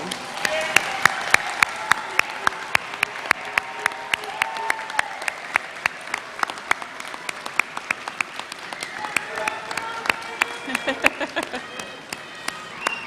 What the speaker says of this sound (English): let's give them a round of applause for all the support and love they've shown you